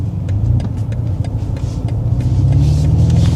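A BMW M3 Touring drives onto a dual carriageway, heard from inside the cabin as a loud, steady engine and road rumble with a rising engine tone as it accelerates, and no talk over it.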